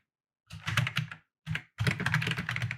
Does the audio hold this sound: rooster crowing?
no